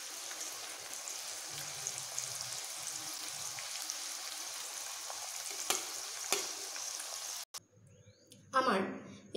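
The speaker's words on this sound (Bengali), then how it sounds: "এগুলোকেও আমি লাল লাল করে উল্টে পাল্টে ভেজে নিচ্ছি।" Bitter gourd slices frying in hot oil give a steady sizzle with occasional turning clatter, before the frying cuts out near the end and a voice briefly speaks.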